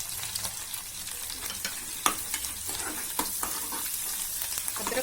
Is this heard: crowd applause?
no